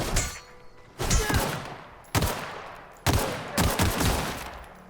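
Gunfire in The Outer Worlds video game: four loud, close bursts of shots, each fading into a rumbling echo before the next.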